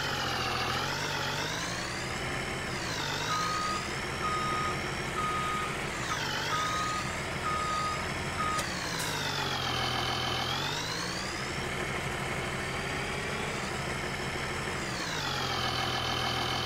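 A truck in Farming Simulator 19 reverses with its warning beeper pulsing steadily over a low, idling engine drone, clear and continuous with no talking.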